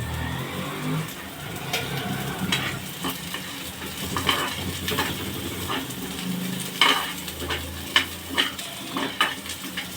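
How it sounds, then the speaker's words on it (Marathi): Sliced onion roasting in a pan with a little oil, a steady close sizzle with stirring scrapes and occasional clinks of a spoon against the pan. "मी इथे स्लाइस करूनच भाजत आहे या पॅनमध्ये म्हणजे छानपैकी भाजला जातो अगदी थोडंसं तेल टाकते"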